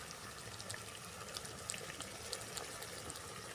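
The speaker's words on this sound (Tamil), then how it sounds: "தேங்காய் அரைச்ச தண்ணி மசாலா அரைச்ச தண்ணி அதில் கொஞ்சத்தை ஊற்றி" Ground coconut and masala water poured into a cooking pot for a raw banana and pea kurma in a village kitchen, a steady faint splashing trickle throughout with small bubbling ticks, no talk.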